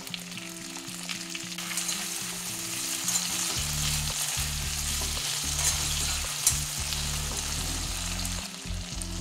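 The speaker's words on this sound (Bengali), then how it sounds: "এটা ভেজে নেব একটু নরম করে" Vegetables fry in a pan with steady, continuous sizzling and crackle at close range, a low rumbling hum running underneath throughout and no voices.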